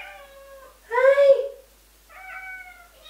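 Pet cats meowing nearby: a short first call, a louder drawn-out meow, then a softer one after a pause, with no other sound.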